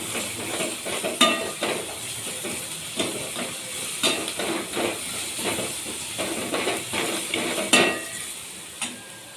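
Steady crackling sizzle of cumin and mustard seeds spitting in hot oil, with sharp pops scattered throughout and no talking.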